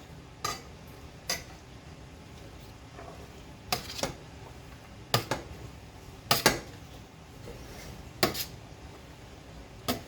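Cooked meat and vegetables for dog food are stirred in a pot, with several sharp, separate clinks and scrapes of a utensil against the metal spaced over ten seconds above a soft, low background.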